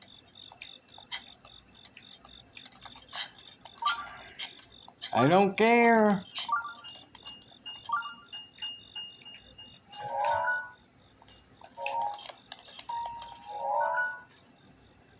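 Repeated electronic beeps from Zelda: Breath of the Wild gameplay ring out in short bursts amid game music and effects, while people talk over them.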